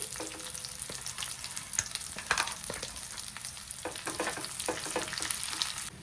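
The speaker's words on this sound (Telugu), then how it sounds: "ఇలా అంతా కలుపుకోవాలి." A ground bitter gourd spice mixture is stirred in a frying pan, giving a steady soft sizzle with scraping and clicking strokes of the spoon, moderately close with no talk.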